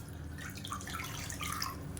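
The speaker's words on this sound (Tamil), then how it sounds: "அதே கப்பில் ஒரு கப் அளவுக்கு தண்ணி சேர்த்துக்கலாம்" A cup of water is poured into a kadai while making thattai, giving a steady, close splashing trickle with no talk over it.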